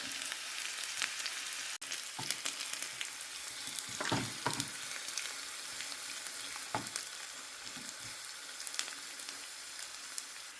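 Onions and dried red chillies with mustard seeds fry in a pan for a chicken curry, making a soft, steady crackling sizzle with a few quiet scrapes and knocks of a spoon.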